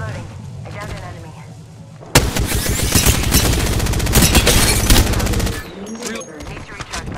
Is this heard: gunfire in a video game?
yes